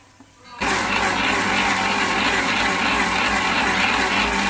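A mixer grinder starts abruptly after a quiet moment, then whirs loudly and continuously as it grinds ingredients for a healthy juice, a close, steady motor roar.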